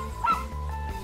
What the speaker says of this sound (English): The dog is happy!